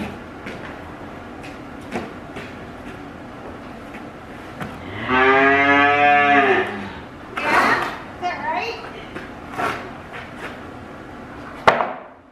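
Dairy cows moo in a barn bedded with wood shavings: one long, loud, drawn-out moo, then a few shorter, softer calls, with faint human voices and bits of shuffling nearby.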